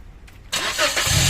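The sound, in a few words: Toyota Vios 2018 engine cranking on start attempt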